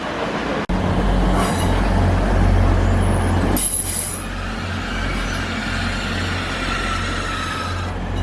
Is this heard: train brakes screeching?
yes